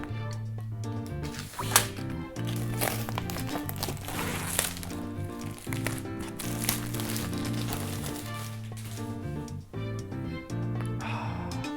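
A new Advanced Revive 2nd edition skateboard deck is unwrapped, with close plastic crinkling and rustling in uneven bursts over steady background music.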